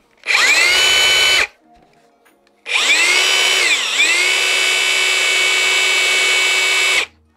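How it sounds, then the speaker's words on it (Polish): A HiKOKI 36-volt cordless drill spins up in two loud, close bursts, a short run then a longer one of several seconds, with a high whine that dips briefly before settling. "Ale mówimy o 36-woltowej wiertareczce"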